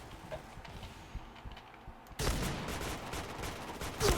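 M4A1 rifle gunfire in the Point Blank shooter game, a quiet stretch of scattered shots followed by a sudden loud burst of rapid fire that continues to the end.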